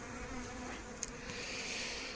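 Honeybees and drones buzz steadily around a beehive at an apiary, a dense continuous hum close by with one brief sharper tick partway through.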